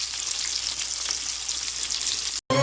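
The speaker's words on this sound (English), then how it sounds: "So I'm browning my oxtail and then I'm going to put it in the pressure cooker." Oxtail browning in a hot pan, a continuous close bright sizzle and crackle, alone and without talk, ending in a brief cut.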